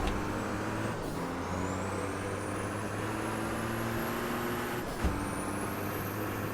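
A Formula Truck diesel racing truck's engine drones steadily in the Automobilista racing game, its pitch climbing through the gears with brief dips at downshifts, loud and continuous with no talking.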